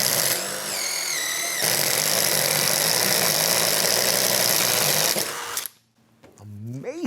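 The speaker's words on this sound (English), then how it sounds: "So now we can use our impact driver to run things like hole saws." A DeWALT prototype impact driver spins a hole saw, giving a loud, continuous high-pitched whine and buzz for several seconds. It then cuts off, and a voice speaks briefly at the end.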